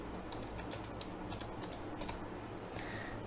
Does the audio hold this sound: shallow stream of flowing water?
no